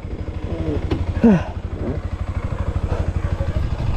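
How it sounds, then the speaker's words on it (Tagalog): A motorcycle engine idles and putters with a steady close-up throb after climbing a forest trail, brief squeaky clatter and faint voices sounding over it. "Ang lupit ng motor ko."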